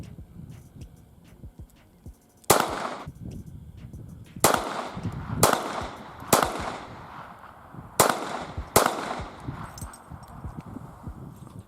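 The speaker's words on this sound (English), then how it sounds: "So now we're actually going to shoot it at the Gatorade bottle from about 5 yards here." Six sharp .22 pistol shots, a Ruger SR22 or Walther P22, fired at a Gatorade bottle about five yards away, crack out close and loud at irregular intervals, with a pair, a single and another pair.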